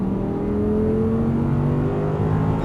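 An Audi R8 engine pulls hard on throttle around a racing circuit, a continuous close droning roar with rising tones as the car accelerates out of a corner.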